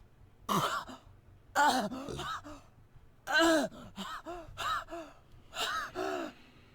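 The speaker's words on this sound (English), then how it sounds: "That's the sound of pained breathing." Ragged, strained breaths from the video game Steins;Gate come in short bursts, gasping inhales and rasping exhales separated by pauses, close and fairly quiet.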